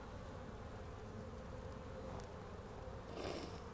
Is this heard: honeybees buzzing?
yes